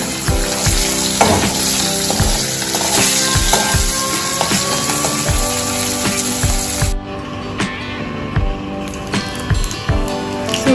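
Hilsa fish pieces fry loudly in a pan, a dense continuous sizzle with sharp spitting pops and occasional scraping, close and without talk.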